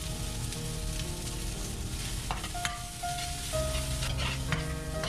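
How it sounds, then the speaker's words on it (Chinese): Scallion, ginger and garlic hit hot lard in a wok and fry with a dense, steady sizzle, joined by occasional scrapes and a faint tone in the background, with no talking. "最后另起锅，放一点荤油，然后加进刚才准备好的葱姜蒜"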